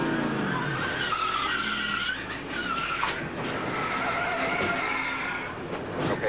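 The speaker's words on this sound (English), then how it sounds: "I hate that sound. But the car snaps, Mike." NASCAR stock car at Atlanta Motor Speedway in the 2002 MBNA America 500 skidding as its back end slides out, a sustained loud tire squeal over roaring engine noise, wavering for several seconds.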